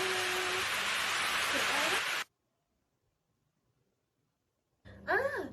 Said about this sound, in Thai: ถูกต้องแล้วค่ะ เสียงฝน ค่ะ